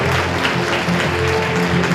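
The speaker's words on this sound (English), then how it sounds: "Please, our applause to welcome Dr. Morris Chang." An audience at an international judges' association conference applauds to welcome a speaker, a dense, loud, continuous clapping that fills the room throughout.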